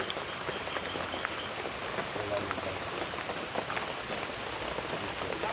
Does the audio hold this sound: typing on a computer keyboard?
no